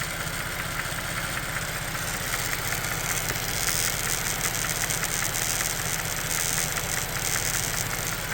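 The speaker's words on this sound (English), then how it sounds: "that is coming from this breather valve right here" A Ford Bronco 2.7 engine idling, a steady dense mechanical drone with a fast ticking rattle from the breather valve running throughout, loud and close.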